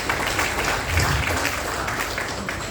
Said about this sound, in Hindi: तो जोरदार तालियां बनती है